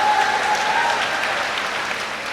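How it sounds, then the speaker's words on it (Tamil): An audience at a Tamil speech breaks into dense, continuous clapping that holds at a fairly loud, even level for a couple of seconds. "சினிமா நடிகையோட பேரை சொன்னா என்ன சிறப்பா கைத்தட்டல்"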